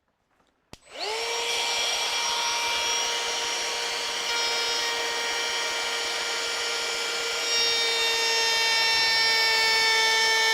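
Woodworking power tool switched on at a bench for a Lutyens bench build, starting with a sharp click and spinning up into a steady whine with rising tones, then humming continuously and close.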